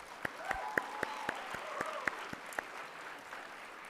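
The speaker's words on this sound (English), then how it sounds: "I think that they all deserve a huge round of applause." Applause at a BBA orientation program, a sparse, fairly faint clapping with distinct individual claps rather than a full roar, fading toward the end.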